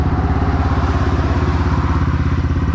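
A motorcycle engine runs steadily and close, a loud, throbbing drone with a regular pulsing beat and no voices over it.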